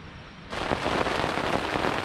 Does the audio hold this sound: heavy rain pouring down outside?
yes